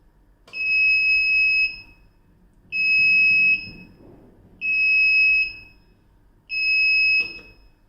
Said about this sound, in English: the buzzer will be audible, which indicates the test is in live condition